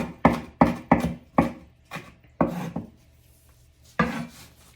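A knife slicing jalapeno chilies on a cutting board, a series of crisp close chops in an uneven rhythm, about eight cuts with a short pause before the last one.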